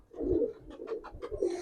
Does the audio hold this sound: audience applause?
no